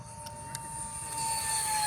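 A 3D-printed cartoon-scale F-16 model with an electric ducted fan flies overhead, giving a steady high-pitched whine that swells slightly louder as it approaches.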